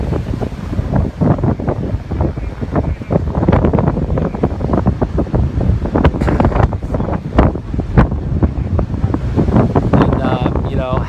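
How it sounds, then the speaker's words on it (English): Ocean surf rolling in at high tide on Ortley Beach during a storm, a loud continuous roar of waves buffeted by heavy wind noise on the microphone, with no clear breaks in the rush. "in the last 10 minutes or so, the ocean has come up a bit higher. It's coming up with a bit more force"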